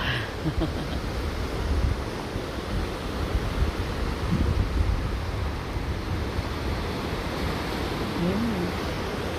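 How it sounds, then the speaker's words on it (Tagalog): Ocean waves wash and roar steadily with wind buffeting the microphone, a broad continuous rush close by. "Ang lahat ay maingay. Dagat-dagat."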